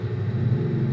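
A motor runs steadily with a low, continuous rumble, close and even throughout the short moment, a deep drone once mistaken for thunder while waiting for rain.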